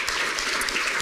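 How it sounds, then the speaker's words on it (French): A theatre audience applauds presenters leaving the stage at a science event, a dense, even wash of many hands clapping at once, steady and fairly loud for its whole short length, with no voices. "On peut applaudir les petits débrouillards et Gaël Prat."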